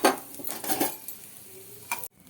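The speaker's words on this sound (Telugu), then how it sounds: "ఎండుమిర్చి వేగిన తర్వాత ధనియాలు మెంతులు జీలకర్ర ఇవి కూడా ఫ్రై చేసుకుందాం" Dry red chillies, coriander seeds, fenugreek and cumin fry in a pan, a light crackling sizzle broken by utensil scrapes and clinks against the metal, ending abruptly.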